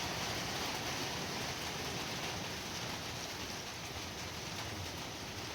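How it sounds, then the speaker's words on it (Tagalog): Rain falls steadily, a soft even hiss of drops with no voices, constant throughout. "Thank you po sa ulan"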